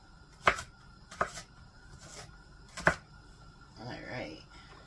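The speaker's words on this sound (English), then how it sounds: "now we have our onion chopped" An onion being chopped on a cutting board with a knife: three sharp, close knife strikes spaced about a second apart, followed by a softer stretch of low scraping or talk.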